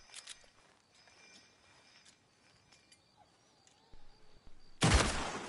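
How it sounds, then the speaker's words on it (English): A single loud, sharp gunshot bursts out near the end, fired to shoot the chains off a captive in Red Dead Redemption 2, after several seconds of quiet ambience with faint scattered footsteps and rustles. "Just shoot the chains off, please."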